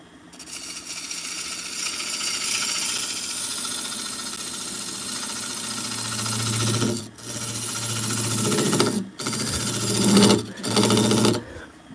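A skew chisel cutting wood on a lathe: a steady, loud scraping hiss as the tool rides the spinning workpiece, with a few brief pauses near the end.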